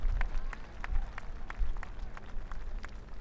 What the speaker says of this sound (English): Could I ask for a very kind round of applause to Joey and his wife Emma for having us here